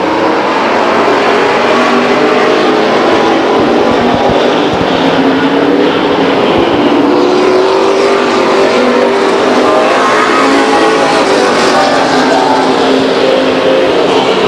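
Race cars roar around the Stockton 99 Speedway oval, a loud continuous engine drone that rises and falls as the pack passes, with no gaps.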